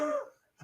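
A person coughing after a gulp of Gatorade went down the wrong pipe, a short rough cough burst at close range followed by a brief pause and a softer second catch.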